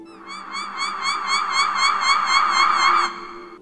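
A single warbling bird cry rises as a sustained, wavering call, used as a sound effect in a spooky narrated tale about a roadside creature. It plays clearly for about three seconds over a low steady hum, then cuts off.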